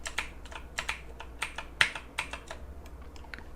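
Computer keys are pressed repeatedly while using the Ctrl+D shortcut in The Sandbox Game Maker, producing a quick series of sharp clicks in an irregular rhythm, close and fairly quiet.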